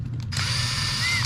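A power drill whines steadily for about a second, taking brass portal adapters off a Traxxas TRX4 or TRX6 RC truck, close and loud after a couple of brief ticks.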